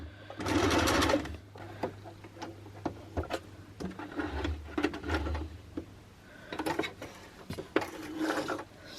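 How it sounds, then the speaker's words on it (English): A home sewing machine runs in several short bursts while stitching in reverse, its needle mechanism whirring and clattering close by between quieter pauses. "if you want to do a reverse stitch I need to use this button here"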